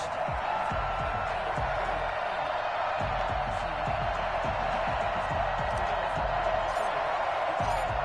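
A stadium crowd at a Colts versus Dolphins football game in an EA Sports video game keeps up a steady, broad roar throughout, with a commentator talking over it.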